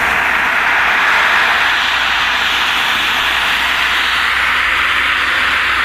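A compressed air foam system nozzle on a Darley 75-foot quint fire truck sprays foam in a loud, steady, unbroken rushing hiss that stays constant throughout.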